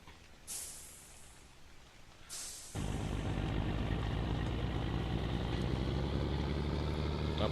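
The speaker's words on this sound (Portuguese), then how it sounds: "Tá patinando muito, olha só." Heavy truck spinning its wheels in mud in World Truck Driving, a loud steady broadband roar that jumps in after a brief quieter stretch and holds near and constant to the end.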